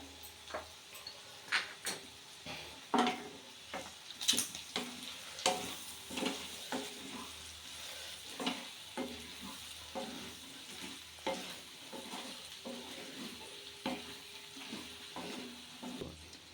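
Chicken liver fry with cumin powder sizzles softly in a pan while a utensil stirs in a regular rhythm of scraping strokes, close and fairly quiet, with no voices.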